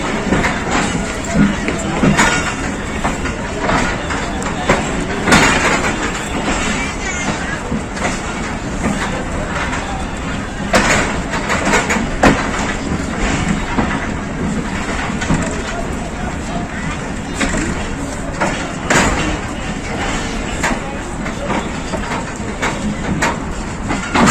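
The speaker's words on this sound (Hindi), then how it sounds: "45 पाकिस्तान एक्सप्रेस फैसलाबाद से रवाना हो रही है।" Pakistan Express pulling out of Faisalabad on the Rawalpindi run: a steady, loud rolling rumble of railcars on track with faint rhythmic clacks, continuous for the whole stretch, with people talking faintly in the background.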